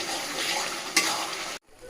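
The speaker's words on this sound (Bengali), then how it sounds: "ভালো করে তেলের সাথে মশলার সাথে কষিয়ে নিচ্ছি।" Oil sizzles steadily as spices with salt and turmeric are stir-fried for mushroom kosha, with a brief scrape at the midpoint before the sound cuts off abruptly into near silence.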